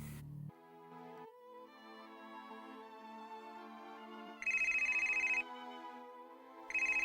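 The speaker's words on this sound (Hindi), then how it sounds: "अरे, गौरव का फोन आ गया।" A phone rings with a melodic electronic ringtone, its tune held for several seconds, then broken by two bursts of loud, rapid beeping.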